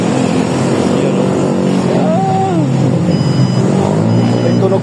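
A remote-controlled bike signal light gives off a car-like electronic sound, a steady buzzing tone with a short rising and falling chirp in the middle, heard close up over constant background hum.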